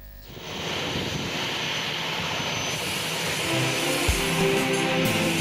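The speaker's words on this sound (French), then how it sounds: "l'avion transportant la députée Sophie Kakouji, candidate gouverneur de Tanganyika, a atterri sur le tarmac de l'aéroport de Kainda à Kalemi" A plane lands on the tarmac at Kainda airport in Kalemi, Tanganyika, its engines giving a loud, sustained roar that swells slightly as it comes in.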